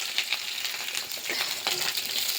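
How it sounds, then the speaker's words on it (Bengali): Potatoes frying in hot oil for aloo dum, a steady close sizzle with dense crackling spitting throughout, no voices. "একটু আলু ভেজে দেবো"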